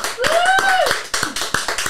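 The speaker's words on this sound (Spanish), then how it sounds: "Quiero que reciban aquí con un fuerte aplauso a Andrés Cole" Clapping from a small audience welcoming Andrés Coll, a handful of distinct, sharp claps in an uneven rhythm beside a brief whistle-like tone, fairly near and loud.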